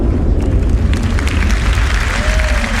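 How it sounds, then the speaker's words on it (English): A cinematic explosion effect in the Star Citizen video game, a loud continuous rumbling boom with dense low-end roar that sustains throughout, with faint crackling debris above it and no talking. "and the explosion itself."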